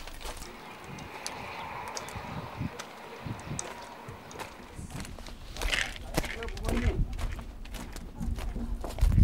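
Footsteps crunch along a path between walls of giant stacked logs in Mohe, a steady walking rhythm that grows louder and nearer toward the end, with outdoor ambience and occasional voices in the background.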